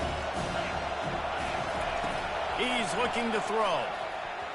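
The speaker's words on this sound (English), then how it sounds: "Decibels rising as the crowd gets behind this defense on 3rd down." A football stadium crowd roars behind the home defense on third down, a dense, steady wall of noise that swells slightly, with a commentator talking over it.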